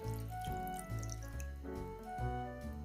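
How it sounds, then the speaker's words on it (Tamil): Chilled water is poured into a glass in a home kitchen while preparing white pasta, giving a close, gurgling stream whose tone shifts as the glass fills, with a few splashy bursts and no talking. "இப்போ நான் ஒரு கிளாஸ் சில்லுங்கிற தண்ணி ஊற்றுறேன்."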